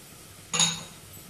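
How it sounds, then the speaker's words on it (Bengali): A spoon clinks once against a pan while boiled potatoes are stirred with cumin powder, a brief bright metallic knock standing alone over quiet kitchen background. "সেদ্ধ আলু দিয়ে খুব ভালো করে নেড়ে নেব।"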